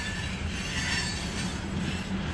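A freight train rolls through a station, its railcars rumbling and wheels grinding in a steady, loud, close wash of noise with a faint metallic squeal, and no voices.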